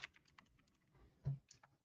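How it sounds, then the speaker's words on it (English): Clicky computer keyboard keys tapped in quick irregular bursts, close and fairly quiet, with one heavier keystroke near the middle and a few trailing taps. "My keyboard's too clicky."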